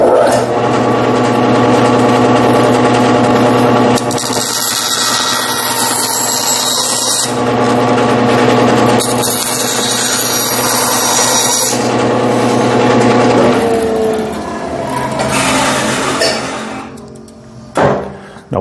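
A power saw cuts steadily through a wooden piece for a hollow form, loud and close, running in long continuous passes with brief changes in pitch before stopping near the end.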